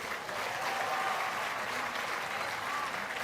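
Steady, dense applause from an audience at a groundbreaking ceremony for the Al Khoziny pesantren, a continuous wash of clapping hands filling the whole stretch at even loudness.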